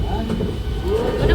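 A South Eastern Railway train rumbles past nearby on a rainy day, a steady low roar with faint wheel noise, while people talk over it.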